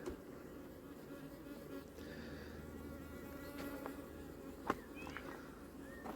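Honey bees flying around a hive on a warm day in Ireland, a steady low buzzing drone with occasional louder passes close by, faint overall and without talk.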